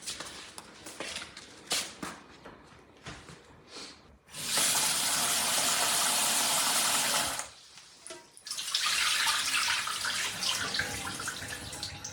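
Drinkable tap water in Australia gushes out in two sustained bursts, loud and hissing, with quieter clatter and drips between them and no talk.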